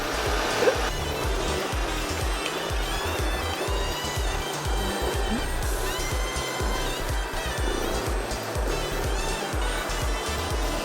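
A Dreame V20 Pro cordless vacuum cleaner runs steadily, giving a loud, even whooshing hum close by that holds for about eleven seconds without a break.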